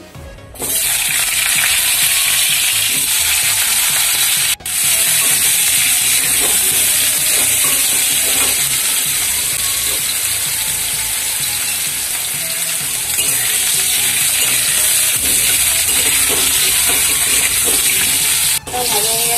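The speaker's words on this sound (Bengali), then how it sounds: "এবার কুমড়োটা ভেজে নিচ্ছি।" Pumpkin fries in hot oil with a loud, constant, close-up sizzle that fills the whole stretch, with a brief break or clunk near the start and again toward the end.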